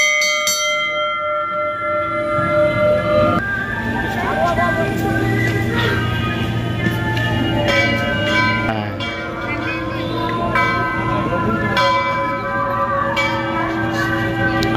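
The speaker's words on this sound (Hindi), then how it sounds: "और ये है यहाँ का घंटी।" A temple bell rings repeatedly with bright, resonant metallic strikes whose tones overlap and linger, clanging at an irregular pace, close and loud, while faint voices murmur beneath.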